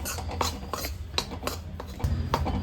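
Scraping and stirring of milk powder frying with a little milk in a pan, a series of short rasping strokes at an uneven rhythm, close and clear with no talk.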